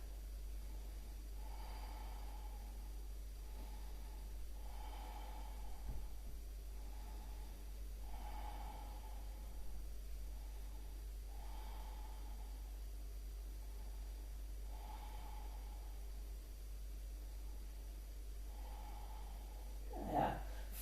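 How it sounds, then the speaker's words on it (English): Slow, deep yoga breathing, soft rhythmic inhales and exhales repeating about every three seconds over a low steady hum, faint and close, with a slightly louder breath near the end. "and breathe."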